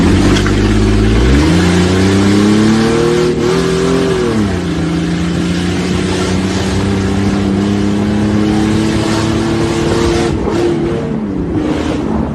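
A car tears at speed through residential streets, its engine revving hard and rising in pitch, then holding a loud sustained roar for several seconds, close and continuous with no talk.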